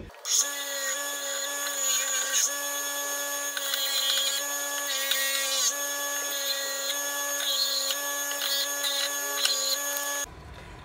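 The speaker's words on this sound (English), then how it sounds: "now what I'm gonna do is I'm gonna sand a flat spot on this" A power sander whines steadily as it grinds a flat spot onto a wooden piece for a bowling trophy, its tone wavering as pressure shifts, close and continuous for about ten seconds before cutting off.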